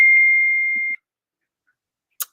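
A single sustained electronic beep tone lasts about a second, clear and steady, then gives way to silence broken by a brief click.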